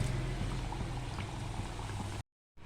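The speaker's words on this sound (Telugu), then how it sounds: "ఆయిల్లో వేసుకుంటున్నాను." Pieces of nimki dough drop into hot oil and fry with a loud, steady frothy bubbling that runs for about two seconds, then cuts to silence before resuming briefly.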